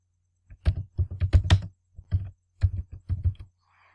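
Typing a meeting title on a computer keyboard: bursts of crisp, close keystrokes in an uneven rhythm, separated by short pauses, in a quiet room.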